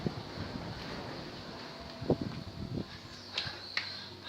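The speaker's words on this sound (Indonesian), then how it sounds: "Anginnya sejuk banget ya." Steady outdoor wind rumbles and buffets across the microphone throughout, with a few brief louder gusts and faint clicks; the sound is continuous and moderately loud.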